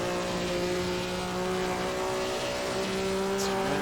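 Grand Prix sports car with drum brakes driving at speed, its engine holding a steady, loud drone with a constant tone and little change through the whole stretch.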